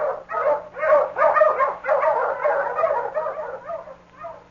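A dog in a 1947 radio drama of the Yukon barks and yips excitedly in a steady run of close, loud barks, with slight whimpering tones, and no talk over it.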